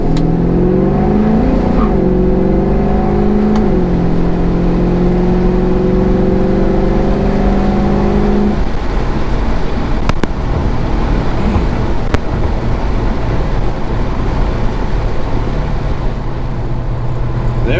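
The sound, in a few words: LS-swapped 1973 Chevrolet Nova accelerating at wide-open throttle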